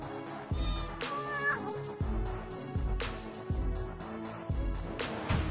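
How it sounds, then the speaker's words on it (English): A new kitten gives a couple of high, thin meows near the start, heard over a loud rhythmic music track with regular beats. "They told us all about their new kitten Evie, who's changing colors."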